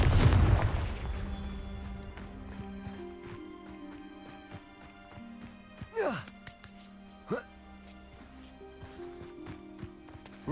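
Confringo fire spell explosions in Hogwarts Legacy, a booming blast at the start followed by a few sharp bursts a second apart, set against a sustained musical game backdrop.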